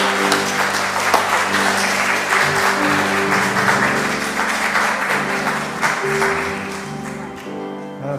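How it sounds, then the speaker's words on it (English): Steady audience clapping fills a church homecoming water communion service, a sustained wash of applause over held musical tones, gradually thinning toward the end. "let's clap for them."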